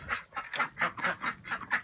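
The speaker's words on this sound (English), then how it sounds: "here are the other ducks in their swamp" Ducks quack in a quick, regular series of about eight loud, nasal calls close by.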